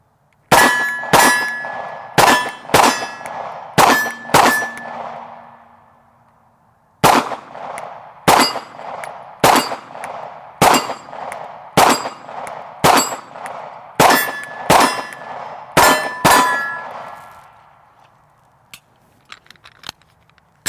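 CZ P-07 Duty handgun fired at steel targets outdoors, about twenty loud shots in two strings, each crack followed by a ringing metallic clang of the plate, with a short pause between strings.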